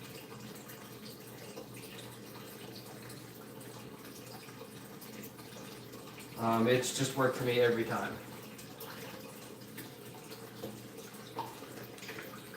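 Tap water runs steadily into a fish tank during a water change, a constant soft rushing wash that continues under a person talking.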